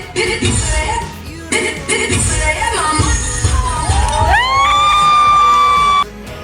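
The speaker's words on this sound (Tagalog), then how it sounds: "Sigawan ang mga audience nang tanggalin na ni Atasha ang suot niyang maskara" A live stage audience screams and cheers loudly as a performer removes her mask during a dance performance. Shrill, sustained crowd shrieks rise and hold, then cut off abruptly.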